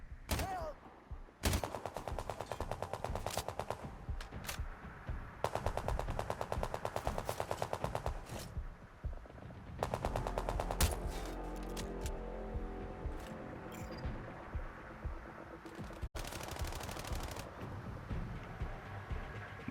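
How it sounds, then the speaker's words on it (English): Rapid bursts of gunfire in Nier Replicant, several long machine-gun-like volleys of close, sharp shots separated by brief pauses, loud and dominant throughout. "Where the fuck is this person shooting from?"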